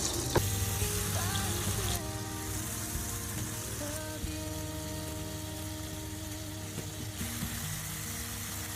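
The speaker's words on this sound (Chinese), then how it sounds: "吃這個牛排了，先煎2塊" Steak pieces frying in a pan make a soft, steady sizzle beneath a sustained tonal hum, with a few faint clinks; quiet overall.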